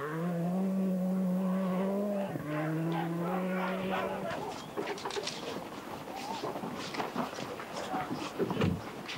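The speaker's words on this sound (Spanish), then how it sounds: "Mientras tanto la carrera seguía, ahí le superaba Juha Kankkunen" Rally cars race at the 1998 Swedish Rally. A loud, sustained engine note shifts pitch in the first seconds, then gives way to a rougher, noisier roar with scattered bursts.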